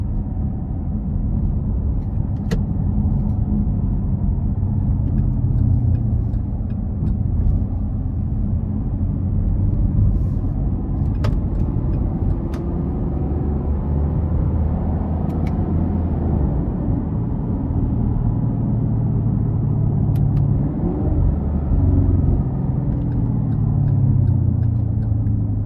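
A 2022 Chevrolet Camaro 1SS 1LE with a 6.2-litre V8 drives along, its engine rumble loud and steady from the cabin for the whole stretch, with a few faint ticks over the road noise and no talking.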